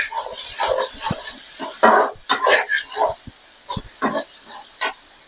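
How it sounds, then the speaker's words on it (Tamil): Salt being stirred into a vegetable curd masala in a pan, heard as a series of close, irregular scraping and clattering strokes with bursts of hiss between them. "உப்பு போட்டுக்கிட்டு நல்லா கலந்துடணும்"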